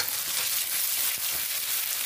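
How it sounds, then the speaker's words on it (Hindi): Ginger-garlic paste added to onions frying in a pan for a Bengali prawn malai curry, giving a continuous close, even sizzle and crackle of hot oil throughout, with no voices. "तो इसमें हम अदरक लहसुन का पेस्ट डाल देते हैं"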